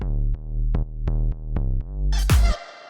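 Deep synthesized sub bass notes pulse in a rhythmic pattern, each with a sharp attack, ending in a burst of noisy, gritty texture.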